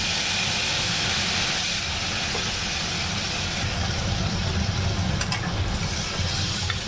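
Spice masala with whole cumin and garam masala fries in a pan with a loud, steady hiss that carries through the whole stretch without pause.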